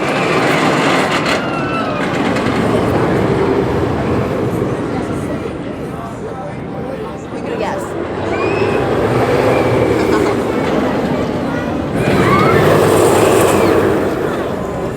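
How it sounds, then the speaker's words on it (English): Wildcat's Revenge, a hybrid roller coaster at Hersheypark, rumbles steadily with a continuous rolling roar and faint distant screams, swelling louder near the end as the train passes closer. "Wildcat's Revenge. It just opened up last year for the 2023 season, and Coda's getting ready to ride it now for the 2024 season"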